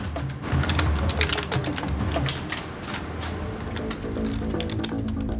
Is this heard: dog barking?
no